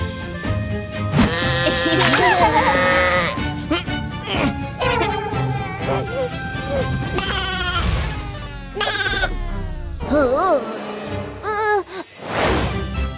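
Cartoon sheep bleat repeatedly over a dense, busy backdrop with music-like tones in a children's cartoon, the wavering cries rising loud and close several times.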